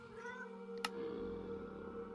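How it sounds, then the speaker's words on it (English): A single short cat meow from a Minecraft game cat sounds once, moderately clear over a steady background hum. "I'm saying hi to a cat"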